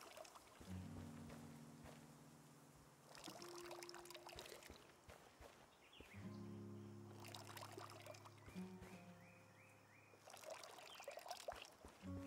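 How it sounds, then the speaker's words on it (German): A watering can is filled with water in the video game Hokko Life. Soft pouring and splashing comes in short bursts under gentle game music, quiet throughout with no voices. "Du sollst die Gießkanne befüllen."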